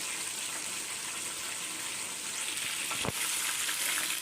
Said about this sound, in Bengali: এই তো চিকেন বানাচ্ছি